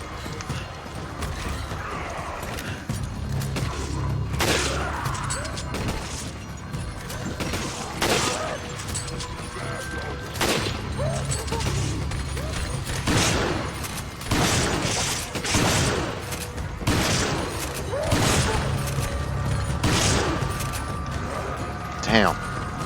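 Shotgun blasts and other weapon fire in Resident Evil 5 ring out repeatedly, loud sharp reports at irregular intervals mixed with clanks and game noise, while a voice talks over the action.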